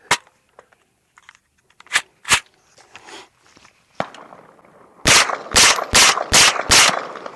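Suppressed 9mm pistol caliber carbine firing subsonic hollow point rounds outdoors: scattered sharp reports early, then five loud, evenly spaced muffled shots in quick succession near the end, close and dry with no talk.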